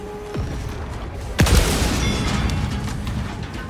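Grenade explosions and gunfire in the video game Helldivers 2: a sharp, heavy blast lands partway through, followed by rumbling debris and scattered shots, loud and close, with no talking.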